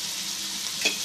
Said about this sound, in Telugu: ఇదైతే నూనెలో కొంచెం మగ్గనిద్దామండి.